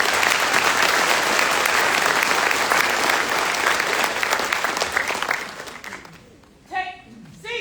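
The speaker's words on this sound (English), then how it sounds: "Please join me in a round of applause for the winning squad of the drill and ceremony competition." A graduation audience applauds a winning drill and ceremony squad, a dense, loud wave of clapping that fades out after about six seconds, followed by a brief voice.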